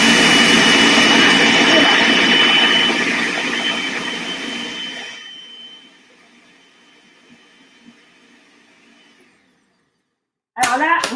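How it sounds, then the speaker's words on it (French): A kitchen blender whirs loudly while mixing avocado pesto with milk, a steady high-pitched roar that winds down and fades to near silence, followed by a brief clatter at the very end. "Et puis, on va de nouveau mixer"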